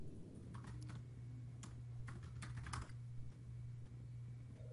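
Clicks of someone typing on a computer keyboard in a few short bursts, quiet and close, over a steady low hum with no talking, during a Draw My Thing drawing game.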